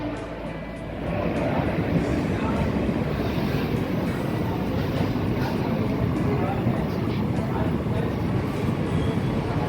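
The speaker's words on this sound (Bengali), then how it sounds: "একটা ট্রেন ঢুকছে, চলুন দেখাই।" A train pulls into a small rural railway station, a heavy low rumble of wheels and carriages swelling after the first second and holding steady, loud and close, with the rolling noise continuing throughout.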